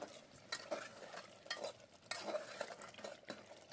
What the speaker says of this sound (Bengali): এবার এটা দিয়ে কিছুক্ষণ আমি মাংসটা কষবো